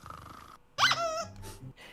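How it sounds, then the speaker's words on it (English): A dog growls and whines in short, close bursts, a rough rumble broken by higher yelping tones, with no voices. "Yep, doggos."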